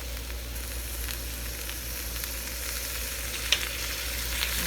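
Cauliflower sizzles in butter in a hot pan with a steady crackling fry close by. There are a couple of faint clicks and no voices.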